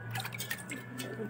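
Water trickles and drips into the pot of a freshly rooted chrysanthemum cutting, a brief, soft splash over a low background hum.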